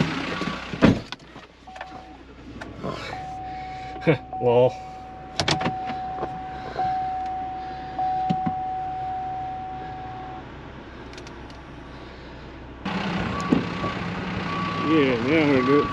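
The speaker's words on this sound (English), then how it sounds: "Yep, gotta move my truck." A truck is backed up beside an F-4 Phantom jet, with a steady electronic reversing beep repeating and a running engine, alongside clunks and brief voices nearby.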